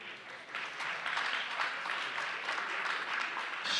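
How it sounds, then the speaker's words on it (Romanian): A gala awards audience applauds on cue, clapping that swells after a quieter start and holds steady at moderate distance, with no speech over it. "Aplauze."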